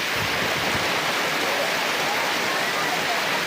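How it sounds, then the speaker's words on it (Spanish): Heavy rain pours and floodwater rushes through the streets of Guayaquil, a dense, steady hiss and roar that holds without a break. "con las fuertes lluvias que se registraron la tarde de este lunes en Guayaquil"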